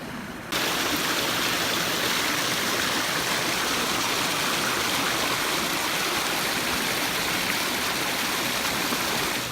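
A large river rushes near Palm Springs and Joshua Tree National Park, a loud, steady broadband roar of flowing water that begins abruptly and continues without a break.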